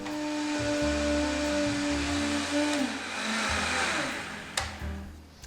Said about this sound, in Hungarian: Az édesburgonya megfőtt, úgyhogy ehhez már nincs más dolga, mint hozzáadni a plusz tejszínt, és ezt most leturmixolom.